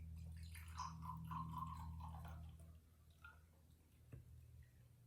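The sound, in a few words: water being poured into container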